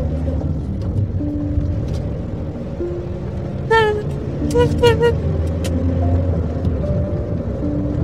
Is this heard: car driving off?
yes